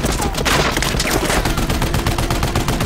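Intense gunfire in the 2023 war film Sisu, a dense barrage of rapid machine-gun bursts and shots firing continuously and loudly throughout.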